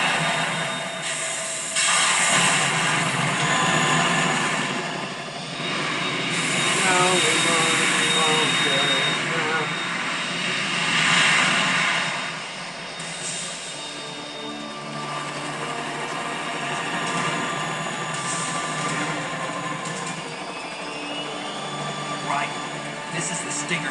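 Harrier jet engine roaring in the Metal Gear Solid 2 video game, a loud sustained rumble and whoosh that swells and fades in waves, heard alongside talking voices and game effects.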